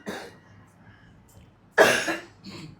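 A person coughs close by, with one faint burst at the start and a loud, harsh cough near the end trailing into a softer follow-up, in a quiet room among family talking about illness.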